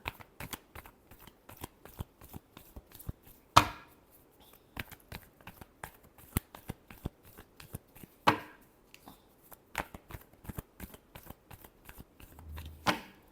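Tarot cards are shuffled by hand in a quiet room, a long run of crisp, rapid riffling flicks with a few louder slaps, no voice.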